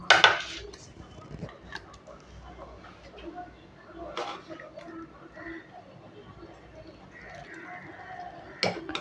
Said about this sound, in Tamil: இப்போது ஒரு பாத்திரத்தில் நம்ம மாற்றிக்கலாம்